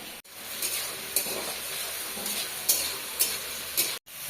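Bottle gourd and potato cook in a pan with a steady, close sizzle. Occasional stirring scrapes break through, and the sound drops out briefly twice. No one talks.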